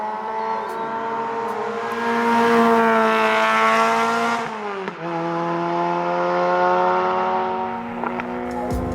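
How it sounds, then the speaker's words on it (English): A Lotus Elise's Toyota-sourced four-cylinder engine with a Sonic Fury exhaust revs hard and close, rising through a gear, dipping at a quick shift, then climbing again with a raspy, buzzy tone. "A Sonic Fury exhaust helps the Toyota sourced 4-cylinder sound far more exotic than its roots would suggest."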